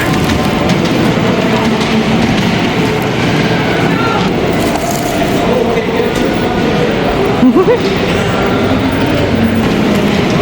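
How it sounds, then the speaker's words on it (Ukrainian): A children's ride-on train rolls through a busy Pennsylvania shopping mall, giving a steady rumble and wheel clatter that blends into dense crowd noise and indoor chatter. "Ми зараз Марчика візьмемо сюди на цей потяг"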